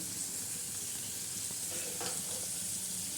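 Spices tempering in hot oil for a capsicum curry, with turmeric stirred in, give a steady close sizzle and fry crackle, broken by a few brief stirring clinks and spits, with no voices.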